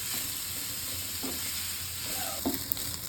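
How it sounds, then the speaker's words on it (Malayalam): Thinly sliced medium onions, a sprig of curry leaves, two green chillies and salt sizzle steadily in hot oil, with a few scraping stirs of a spoon in the pan. "മൂന്ന് മീഡിയം സൈസ് സവോള കനം കുറച്ചരിഞ്ഞതും ഒരു തണ്ട് കറിവേപ്പിലയും രണ്ട് പച്ചമുളകും ഒരു ടീസ്പൂൺ ഉപ്പ് കൂടി ചേർത്ത് കൊടുത്ത് നന്നായിട്ട് ഇളക്കണം"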